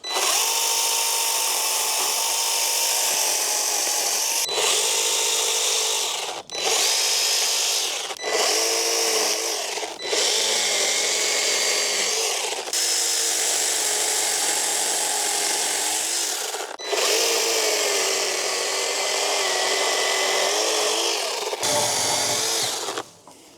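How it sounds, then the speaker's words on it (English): Battery mini chainsaw with a 1/4 inch chain cutting wood, a loud high whining buzz in repeated bursts of several seconds, separated by short pauses. "Chainsaw itself is using a 1/4 inch chain, so nice fine cuts hopefully."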